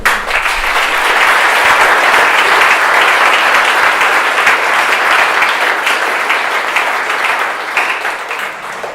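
A seated audience applauds steadily and loudly at a university creative writing reading, welcoming a poet to the stage, with dense sustained clapping throughout and no talk.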